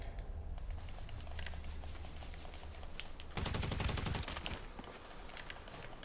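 Shotgun fire from a firefight in the video game GTA 5 Online: a dense burst of rapid blasts in the middle of the clip, set against a constant game soundscape with scattered sharp clicks.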